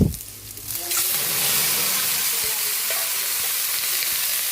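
Chicken pieces for tinolang manok hit a hot pan with a brief clatter, then a loud, steady sizzle and frying hiss that holds close and continuous.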